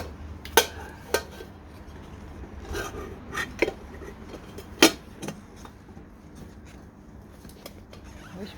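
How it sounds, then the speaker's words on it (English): A metal lid going onto a pot in a firepit oven, several sharp metallic clanks and scrapes spaced irregularly over a quiet outdoor background. "We'll get the lid on."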